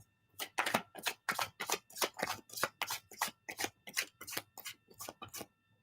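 Tarot cards are shuffled by hand in a quiet, even rhythm of soft, crisp taps and riffles, about three per second, close by with no voices.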